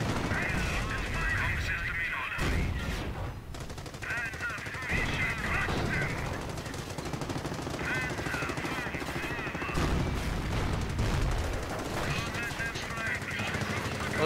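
Rapid machine-gun fire strafing tanks in the real-time strategy game Company of Heroes: loud, sustained bursts that stop and start again several times over heavy battle noise, with someone talking across the fire.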